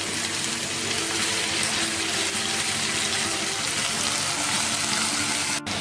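Steady, loud sizzling and hissing of potatoes and vegetables frying in oil over high heat fills the whole stretch, a continuous broadband crackle with no voices.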